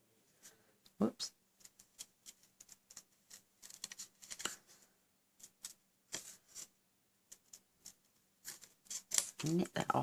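Scissors snip through cardstock while cutting out a pop-up card's flower shape, in a series of short, crisp, irregular cuts separated by quiet pauses. Light handling noise comes between the snips.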